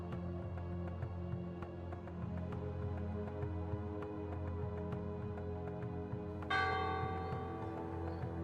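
Church bells in a video game ring out with long, overlapping metallic tones, a fresh loud strike landing partway through over the ongoing resonant hum.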